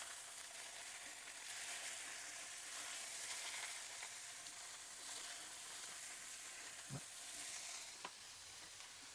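Portobello mushroom caps frying in a little oil, a steady broadband sizzle running the whole time, close and even, with a couple of brief clicks near the end.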